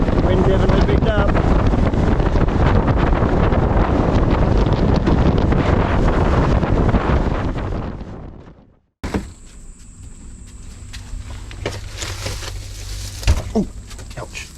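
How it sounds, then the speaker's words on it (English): Strong wind buffets a small boat at sea, a loud roaring rush against the microphone that cuts out abruptly partway, followed by quieter wind, water and faint knocks. "Wind definitely picked up."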